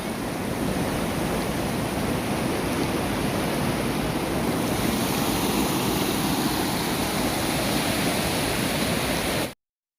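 Rainwater pouring over a dam spillway after heavy rain, a dense, constant roar of falling water that stays loud and unbroken until it cuts off abruptly near the end, with no voices heard.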